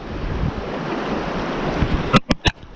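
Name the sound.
wind blowing while lure fishing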